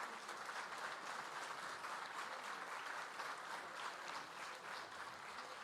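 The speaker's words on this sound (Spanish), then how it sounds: "Un fuerte aplauso para el autor," An audience applauds the author at a book launch for an architecture volume in Azogues, Ecuador. The applause is a steady, dense wash of many hands clapping without pause, heard from a little distance and fairly soft.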